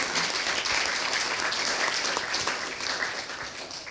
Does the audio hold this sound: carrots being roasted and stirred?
no